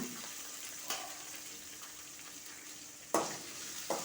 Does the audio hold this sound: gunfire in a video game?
no